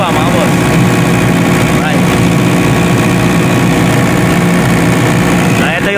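A Denyo diesel generator set engine runs loud and steady, a dense continuous drone with a constant idling rumble and no break throughout.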